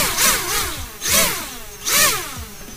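Motors of an MJX Bugs 8 Pro drone throttle up three times in succession, each a rising, whirring swoop of buzzing pitch that falls away, close to the microphone with no talk.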